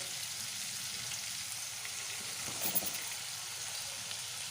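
Whole cumin seeds and ginger paste fry in hot oil in a pan for a Bengali fish curry, a steady, faint, hissing sizzle with a brief bubbling flare partway through.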